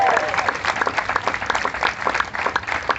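Audience at a school groundbreaking ceremony for the William Barton Rogers School in Hyde Park claps steadily for a few seconds, a dense, even patter of many hands close by, with a brief voice line at the start.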